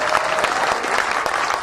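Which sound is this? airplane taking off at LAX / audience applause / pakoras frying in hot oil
audience applause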